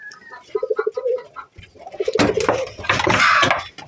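Pigeon cooing at a nest, a run of soft rhythmic coos up close followed by fluttering, scraping and clattering rustles.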